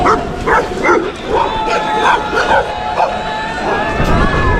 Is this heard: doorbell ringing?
no